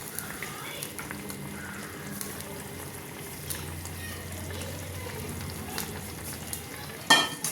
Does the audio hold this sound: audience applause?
no